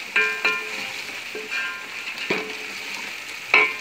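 Food sizzles and crackles in a hot pan, with scattered clinks of a utensil stirring against the metal; close, steady, no talking.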